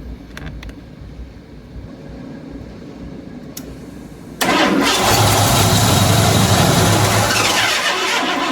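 A few quiet clicks, then a Ford Bronco engine cranks and catches with a sudden loud roar, running rough and steady for several seconds.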